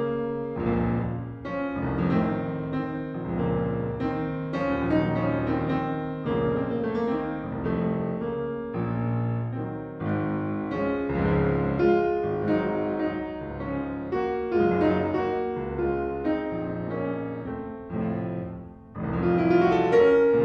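Piano playing the Hungarian variation, number 13, from Brahms' Handel Variations in a dark lower register, with heavy chords and low bass notes throughout and a brighter upper flourish near the end.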